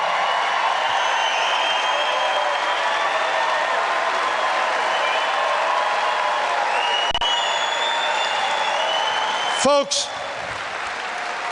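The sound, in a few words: rally crowd applauding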